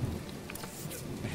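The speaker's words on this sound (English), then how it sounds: "That rain is actually kind of loud." Steady, fairly loud rainfall in the video game My Time At Portia, a continuous hiss of drops with a low rumble beneath, no voices over it.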